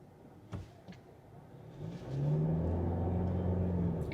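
A 2026 Kia Seltos EX engine sits low and quiet, then surges into a strong rising rev as the car accelerates hard from a stop in sport mode, the tone climbing and sustained.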